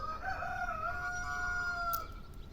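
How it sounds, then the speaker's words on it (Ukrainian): A rooster crows once, a long clear call from a moderate distance, over quiet outdoor background. "Півень також привітався."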